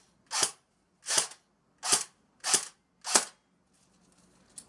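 A budget airsoft AK rifle fires five sharp, evenly spaced snapping shots about three-quarters of a second apart, close and crisp, followed by a faint click and quiet.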